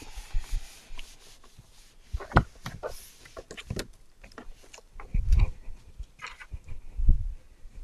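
Taped paper is rubbed down firmly onto a square card base, making close scratchy rubbing strokes and soft thumps in an uneven rhythm, with no talking.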